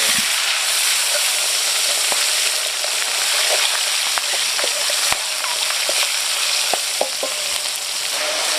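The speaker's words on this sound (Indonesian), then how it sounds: "kita goreng bahan sambal" Sambal chili paste ingredients frying in a pan, a dense, constant sizzle and hiss with occasional sharp pops and crackles of spitting oil, close and steady throughout.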